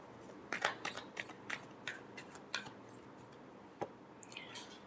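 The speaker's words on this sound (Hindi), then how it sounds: "last shuffle" Tarot cards shuffled by hand in a quiet room during a love reading: soft, irregular papery flicks and riffles, faint and close, with no one talking.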